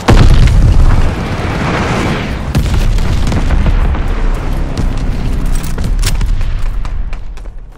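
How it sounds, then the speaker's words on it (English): Glide bomb explosions in the video game Call of Duty: Vanguard, a loud, close barrage of booming blasts and rumbling debris that roll continuously with scattered pops and crackles. "Enemy glide bomb incoming!"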